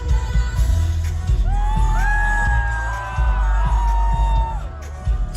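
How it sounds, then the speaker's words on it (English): A huge crowd at a large pop concert cheers, whoops and yells over loud amplified music with heavy booming bass and sustained melodic tones, continuing throughout. "Dang, it's a huge crowd."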